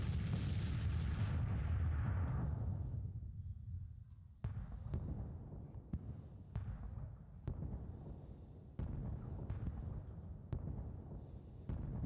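Artillery and musket fire in a Civil War strategy video game: one heavy boom rolls out and fades, then a string of sharp, distant-sounding cracks and thuds follows at irregular intervals.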